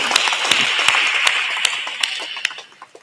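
A gathering at a religious satsang claps in a steady rhythm, with individual sharp claps standing out over a dense patter that thins toward the end.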